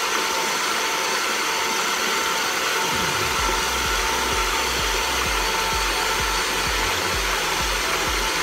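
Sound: electric mixer running while mixing chocolate ice cream

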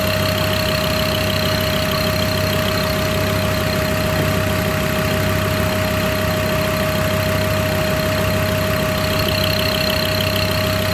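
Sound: car engine idling, fuel injectors ticking

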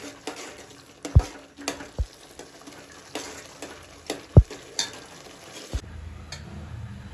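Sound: stirring pav bhaji in pan

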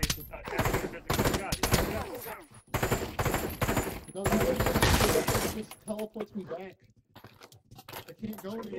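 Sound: gunfire in the video game Pavlov VR

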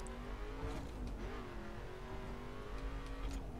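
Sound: car engine revving in video game The Crew

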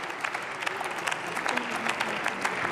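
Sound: applause in the Bundestag

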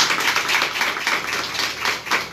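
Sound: applause for the church members

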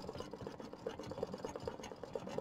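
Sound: sewing machine running

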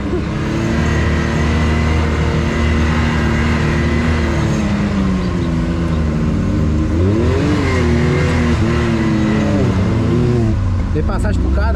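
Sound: Can-Am Maverick X3 RS UTV accelerating on trail

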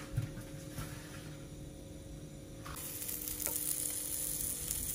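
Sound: salmon frying skin-side down in non-stick pan

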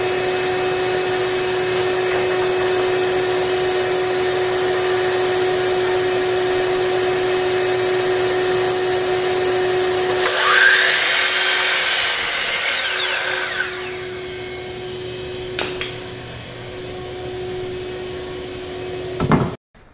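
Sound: power saw trimming the end of a wood board

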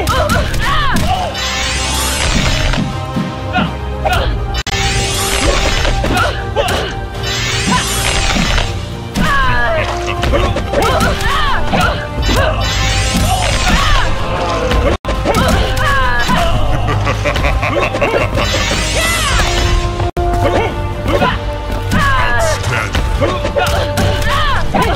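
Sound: fight hits in Mortal Kombat Defenders of the Earth video game

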